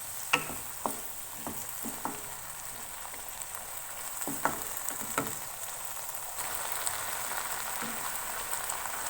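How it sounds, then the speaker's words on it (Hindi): Tomatoes with green chili paste fry over high flame for matar pulao, a continuous close sizzle broken by sharp spoon scrapes and taps as the mixture is stirred in the pan. "टमाटरों के साथ इसको अच्छी तरह से भून लेंगे"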